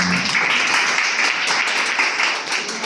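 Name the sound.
audience applause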